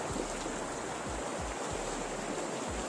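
A forest stream below Urakkallu waterfall runs with a steady, dense rush of water, constant and fairly close, with occasional low thumps breaking through the continuous flow.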